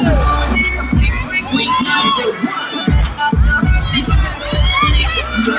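Crowd shouting and cheering at a mall event at SM Telabastagan, loud and continuous, with a host's amplified voice calling out over the roar.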